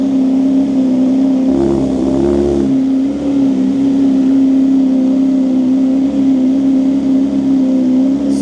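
A BMW S1000R motorcycle idling with its exhaust's DB silencer baffle on, a steady close engine drone with a slight blip early on, loud and continuous with no talking.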